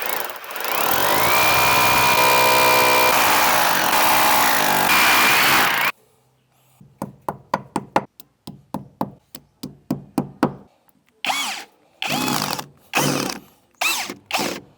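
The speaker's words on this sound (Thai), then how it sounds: "ผมก็จะทำการเจาะนะครับเพื่อฝังพุก" A power drill whirs steadily for several seconds while boring into a wall for a wall plug, then stops, followed by a run of sharp knocks and short bursts of drilling, close up.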